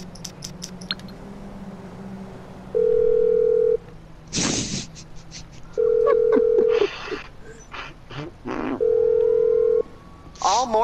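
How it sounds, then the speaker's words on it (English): Telephone dialing in Grand Theft Auto V: three long steady ring tones alternate with short clicks and bursts of in-game noise, close and clear, with brief voices in between. "Did you actually get a phone call from Morse Mutual?"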